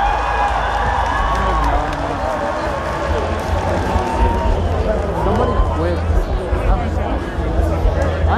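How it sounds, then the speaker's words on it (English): Loud, dense concert crowd noise at a show, applause and cheering filling the whole stretch, a steady roar of clapping and shouts with no break. "Give yourself a round of applause."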